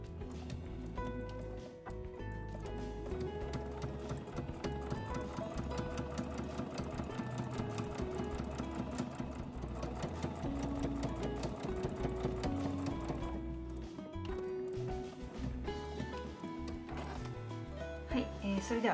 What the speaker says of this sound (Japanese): 今回使用するミシンは家庭用ミシンの重機 EX7 になります